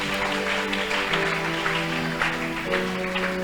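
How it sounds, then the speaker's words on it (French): Church congregation applauding, a dense, steady wash of clapping that carries on evenly for several seconds, with a faint sustained musical tone underneath. "Acclamez le Saint-Esprit."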